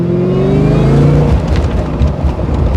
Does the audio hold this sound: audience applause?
no